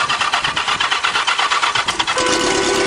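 A motorcycle-powered dune buggy engine cranking in a rapid, loud, pulsing rhythm close by for about two seconds, then catching and settling into a steady running drone.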